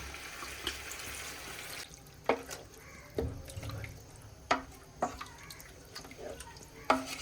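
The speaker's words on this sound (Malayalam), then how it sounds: "ഇതിനകത്തോട്ടൊരു 1 ലിറ്റർ വെള്ളം നമുക്ക് ഒഴിച്ചു കൊടുക്കാം" About a litre of water is poured into a pot of Ambur-style chicken biryani, a steady rushing splash for the first two seconds, then scattered drips and light clinks of the pot.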